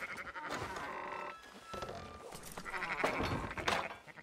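A flock of sheep in Red Dead Redemption 2 bleats repeatedly in overlapping calls, fairly close and steady, with some background game noise and a brief dip in the middle.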